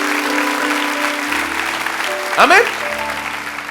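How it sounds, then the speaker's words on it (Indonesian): A church congregation applauds during a sermon, a broad wash of clapping running under a preacher's voice, with a brief louder burst partway through. "Kasih tepuk tangan tuh Tuhan"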